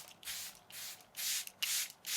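Several short hissing spritzes of setting spray misted onto a face, close and soft, in uneven bursts with brief pauses between them.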